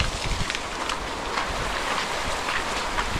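Heavy monsoon rain pours at Visapur fort in a constant, loud broadband wash, with gusty rumbles of wind buffeting the microphone and no speech.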